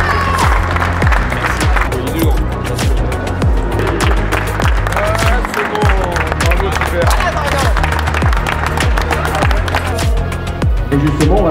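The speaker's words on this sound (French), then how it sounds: "vous pouvez l'applaudir" A crowd at a two-wheeler show applauds and cheers after a stunt competition performance, loud and sustained, with heavy rhythmic thumping music and an announcer's voice running underneath.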